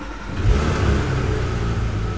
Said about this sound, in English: Car fires into life beautifully as you'd imagine